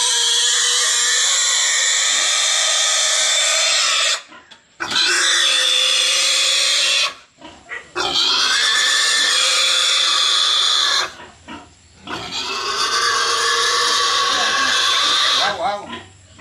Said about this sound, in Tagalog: Baboy pamor daw, sabi ni Boss Dennis.